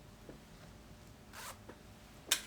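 A dressmaker's clothing zipper is handled while being set into a garment for sewing, with a few brief rasping zips, the last one sharpest and loudest, over a quiet room.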